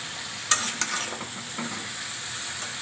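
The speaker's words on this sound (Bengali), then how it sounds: "সবজিটা দিয়ে ভালো করে নাড়াচাড়া করে নিব।" Vegetables stirred into a sizzling spice paste in a pan for a tilapia-and-mixed-vegetable curry, with a couple of sharp spoon scrapes early on over a steady frying hiss.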